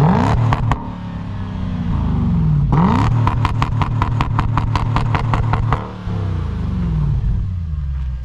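A Legends Car engine revs hard in repeated bursts, roaring up and dropping back, loud and close, with rapid pulsing throbs between revs.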